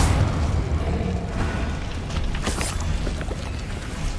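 Confringo, an explosive spell in Hogwarts Legacy, goes off as a loud rumbling boom with crackling bursts, in among continuous game noise.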